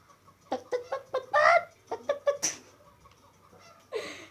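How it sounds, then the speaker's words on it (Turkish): Clucking chicken-dance emote in the video game Fall Guys, a quick run of short squawky clucks in bursts, close and fairly loud, with a brief pause before a final cluck. "Durup şurada bir tavuk dansı yapacağım"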